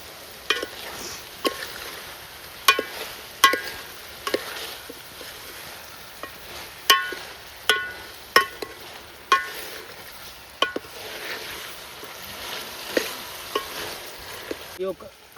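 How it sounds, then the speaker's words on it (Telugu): Village-style chicken curry fries in oil in a pot, a soft continuous sizzle broken by repeated scraping clacks of a spoon stirring against the metal, close by and irregular in rhythm. "కొద్దిసేపటి దాకా నూనెలో ఉడికియాలి."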